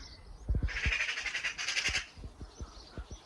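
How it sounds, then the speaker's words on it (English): A magpie calling on a rainy allotment, a harsh rattling chatter over about a second and a half, fairly close and loud, with a few low thuds and knocks around it. "Oh, there's a magpie."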